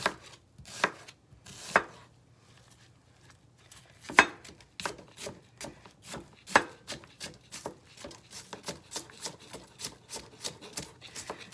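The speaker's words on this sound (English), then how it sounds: "I'm going to cut my onion. Half an onion is enough." A knife chops half an onion into small pieces on a cutting board, close and crisp: a few separate cuts at first, then a steady run of rapid, even knocks that grows denser toward the end, with no talking.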